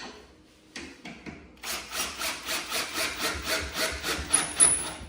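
A few sharp clicks open, then a power driver whirs in a fast, pulsing rhythm as it drives screws into pre-drilled eucalyptus wood on a patio rocking bistro set, close and fairly loud, with no talking.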